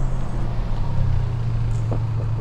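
A 2024 Toyota Tacoma TRD Pro 4x4 pickup idles with a steady low engine hum as it settles to a complete stop, a continuous near rumble with no talk.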